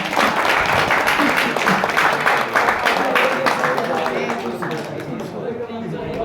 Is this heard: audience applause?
yes